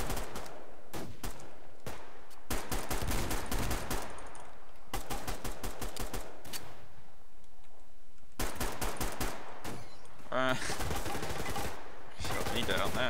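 Rapid automatic gunfire in a Survarium team deathmatch game, fired in repeated bursts of varying length with short pauses between them, loud and close throughout.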